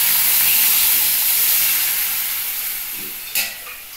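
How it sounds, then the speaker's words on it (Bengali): Warm water poured into a pan of frying semolina with vegetables for upma, giving a loud, steady steaming hiss and sizzle that eases slightly over four seconds, with a brief splash near the end. "এই দেখো এবার জলটা দিয়ে নিই, এটা উষ্ণ গরম জল দিয়ে দিয়েছি।"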